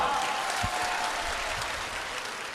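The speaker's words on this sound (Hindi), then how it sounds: "हाँ तो एक बार जोरदार ताली बजाओ।" A crowd at a spiritual gathering claps loudly and steadily for over two seconds, a dense, sustained burst of applause with no talking.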